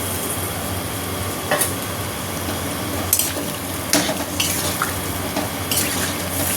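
Potato and taro pieces sizzle steadily in a pan with tomato, with occasional scrapes and clinks of a spatula stirring against the pan.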